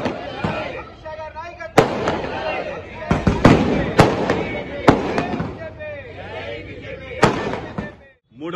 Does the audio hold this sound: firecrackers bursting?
yes